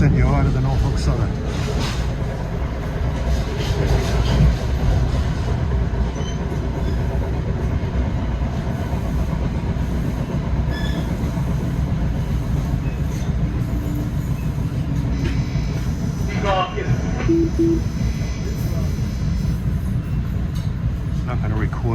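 NJ Transit Comet IV rail cars riding roughly on the tracks near Croxton Yard, a loud continuous rumble with rattling and clicking joints, heard from inside the moving train.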